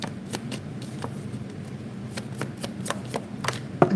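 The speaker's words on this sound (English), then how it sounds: "I'm going to draw some cards for you guys." Tarot cards shuffled and drawn from the deck, a steady run of soft papery riffles and taps heard close by with no talk.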